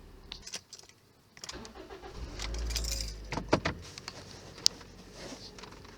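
A 2006-2011 Toyota Corolla engine starts and settles into a low running rumble, close by, with a few sharp clicks and jangles from around the car, and no talking.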